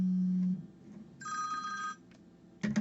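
A telephone rings indoors in a few separate bursts: a low tone, then a bright electronic trill, then a short final ring, each fairly faint and spaced out.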